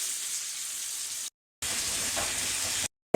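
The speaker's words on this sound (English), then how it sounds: "And we're going to saute this up." Steak strips for pepper steak sautéing and searing in a hot pan, a bright, steady sizzle and hiss broken by two short silent gaps, with no talking.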